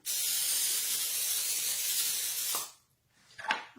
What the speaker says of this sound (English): I'm going to go ahead and spray my pan.